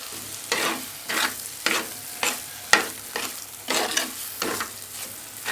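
Tomatoes with salt are sautéed in a pan for Kerala-style egg roast: about eight rhythmic scraping stirs sweep through the mixture over a low, steady sizzle, each pass swelling briefly louder.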